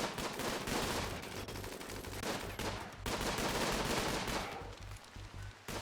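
Turret gunfire against raiders in the video game RimWorld: dense, continuous bursts of rapid automatic shots, loud and sustained with a brief break, then fading near the end, no voices.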